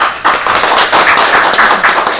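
A small seminar audience claps briefly, a brisk run of close, uneven handclaps lasting a couple of seconds with no voices over it.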